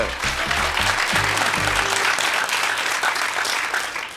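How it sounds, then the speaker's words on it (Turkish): A studio audience on the Turkish quiz show Büyük Risk applauds a contestant, a full, steady burst of clapping with brief low musical tones sounding beneath it early on, then the clapping eases slightly toward the close. "Alkışlıyoruz Bahar'ı"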